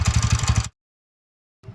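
A TVS Ntorq BS6 scooter engine with a worn 27 mm nut on its one-way bearing gives a short burst of rhythmic, throbbing idle with a faint rattle. It cuts abruptly to silence, then briefly returns.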